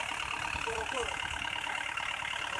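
A cold Isuzu diesel engine idles steadily and close by, its low rumble and mid-range clatter running without a break the whole time.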